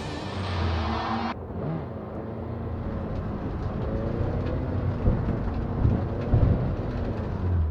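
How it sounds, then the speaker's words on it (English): Thunderstorm in the video game Cyberpunk 2077, with a deep, steady rumble of thunder and wind that swells in a few heavier rolls, loud and close, with no talking. "That is one hell of a storm."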